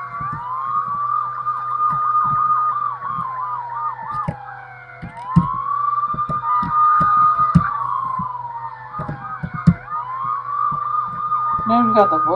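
A police siren in the GTA III video game wails steadily in rising and falling sweeps, loud and continuous, with scattered sharp game impacts and clicks underneath.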